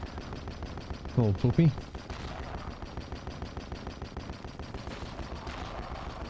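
Rapid, steady bursts of gunfire from TENET, a Devil Daggers-like arena shooter video game, repeat through the whole stretch at moderate loudness, while a voice speaks briefly near the start.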